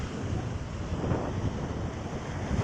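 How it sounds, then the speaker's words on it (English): Waves crash steadily on a Lake Ontario beach at a state park, mixed with heavy gusting wind buffeting the microphone, a dense continuous roar with no speech. "we got the waves crashing down here"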